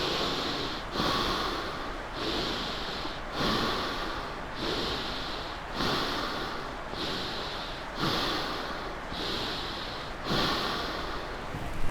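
During a yoga exercise for office workers, a person breathes audibly in a regular, repeating rhythm of airy, close breaths, with no talking.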